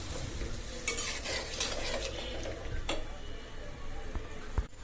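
Soaked ground spice paste fries in a pan with a steady, moderate sizzle, while a utensil stirs and scrapes through it in irregular strokes with occasional light clicks.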